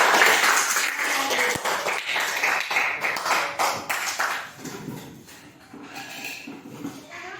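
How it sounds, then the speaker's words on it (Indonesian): A class claps hands together in a classroom, uneven overlapping claps with some sharp taps, fairly close and continuing through the whole stretch before thinning slightly. "Oke, tepuk tangan dulu untuk sekarang"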